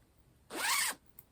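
A small zipper on the back pocket of a fabric project bag is pulled open in one quick, close rasping stroke lasting about half a second, followed by a tiny click in an otherwise quiet room.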